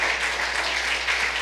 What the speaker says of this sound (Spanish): Dale un fuerte aplauso de alabanza a nuestro Dios